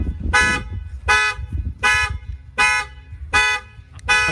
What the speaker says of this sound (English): It is, of course, a car alarm going off.